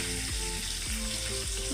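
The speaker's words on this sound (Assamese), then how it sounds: "মাংস ভাজি আছোঁ" Meat fries in a pan with a dense, continuous sizzle, punctuated by a few regular scraping stirs, close and fairly loud with no voices.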